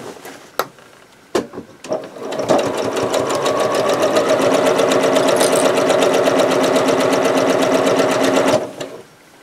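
Sewing machine stitching quilt blocks together: a few clicks and short taps, then a steady, fast mechanical whir runs for about six seconds before stopping.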